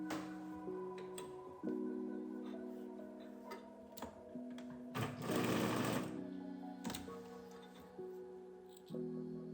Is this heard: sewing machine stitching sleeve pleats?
yes